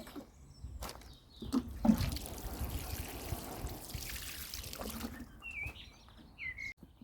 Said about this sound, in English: So I'm going to just give this a good watering first.